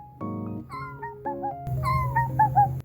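A kitten meows repeatedly in short, high calls at close range, with a low continuous rumble beneath in the second half that could be purring; no one speaks.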